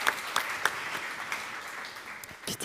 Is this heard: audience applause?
yes